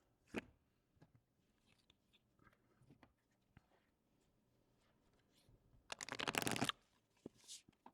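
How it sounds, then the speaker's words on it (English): A brand-new Black Violet Tarot deck is shuffled close by, with soft scattered flicks and taps, then a dense, crisp riffle of cards lasting about a second. "I always do this to really, really shuffle them up and mix them up good."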